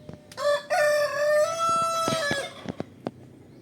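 A native rooster crows once, loud and close, with hens clucking and scattered short calls around it in a quiet farmyard.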